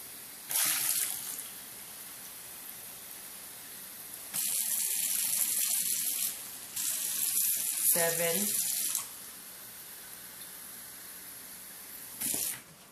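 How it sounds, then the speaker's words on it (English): Water gushes and splashes into a container in several separate bursts, each lasting a few seconds, with quieter pauses in between. "And then I'm going to add 8 cups of water in here."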